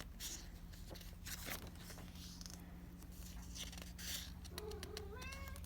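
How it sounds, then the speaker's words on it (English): A pet cat meows a few short, faint calls near the end, over a low indoor hum and soft rustling. "there's a kitty saying hello"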